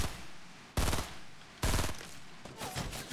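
Two loud, sharp gunshots crack close together in an online battle royale shooter match, followed by a softer burst of shots and game noise.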